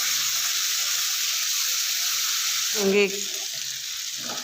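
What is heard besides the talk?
masala frying in a pan for kaleji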